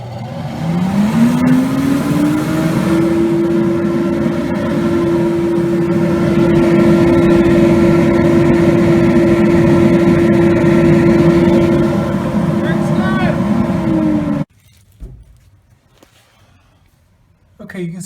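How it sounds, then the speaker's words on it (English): A small workshop dust collector blower with an auto start circuit spins up and runs with a loud, steady motor whine and airflow roar, then cuts off abruptly near the end, leaving near silence. "Got this auto start circuit, so it's connected to the blower"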